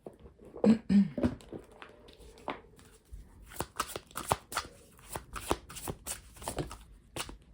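Gaia oracle cards are shuffled by hand at close range, giving a series of crisp riffling flicks and soft slaps in uneven bursts with short gaps.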